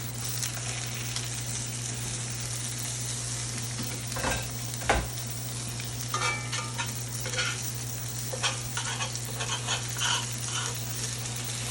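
A NY strip steak sears in a cast iron pan with a constant loud sizzle, a few sharp clacks and stirring scrapes partway through, and no one talking.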